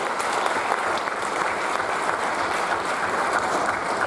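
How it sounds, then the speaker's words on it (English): A crowd at a high school baseball awards ceremony applauds a player, with sustained, even clapping that fills the room without any talk over it. "So we give Jameer one more round of applause."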